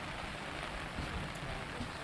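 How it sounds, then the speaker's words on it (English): Rain at a lake beach, a faint, steady wash of falling drops spread evenly across the whole stretch with no talk. "Kind of rainy out here."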